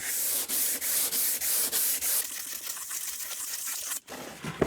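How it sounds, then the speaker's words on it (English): Sandpaper of 100 grit rubbing over a melamine surface, a steady rhythmic back-and-forth scrubbing with about eight even strokes, then a denser continuous rasp, close and fairly loud. "is just give it a quick sand, because you need to get a bit of a key for the paint to stick to."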